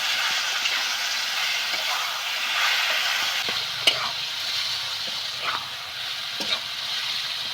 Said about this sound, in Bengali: এবার আমি পুরুলটা দিয়ে দেবো এইভাবে নেড়ে চেড়ে আমি খুব সুন্দর মতো করে ভর্তাটা তৈরি করে নেবো